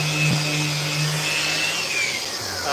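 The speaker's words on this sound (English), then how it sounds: "finish up sanding this board here" Power sander working over a skateboard deck at the Life Skateboards shop, a steady droning whine with a thin high tone that shifts slightly in pitch, continuous and fairly close, with no voices.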